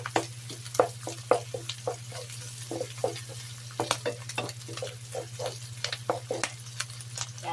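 Onion sautéing in a pan for pork giniling, with repeated scraping stir strokes at a steady rhythm over a low constant hum, close and moderately loud with no talking.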